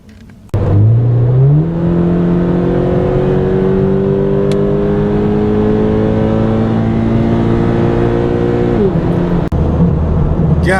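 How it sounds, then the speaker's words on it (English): A 2016 Scion FR-S on the freeway gives a steady loud engine drone and road hum from inside the cabin, with one rise in pitch as it accelerates and a shift near the end. "we will be taking this out on the freeway for a second fuel economy test"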